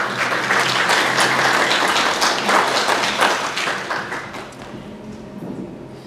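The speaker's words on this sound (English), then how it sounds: "Give her a round of applause." An audience at an evening spiritualist show applauds, dense clapping from many hands, loud and steady before tapering off toward the end.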